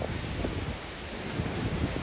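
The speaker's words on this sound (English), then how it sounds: "We got some good gust and wind here." Strong Hurricane Ian wind gusts roar at the Murrells Inlet waterfront in Garden City, South Carolina, in a dense, continuous rush with buffeting on the microphone and no pauses.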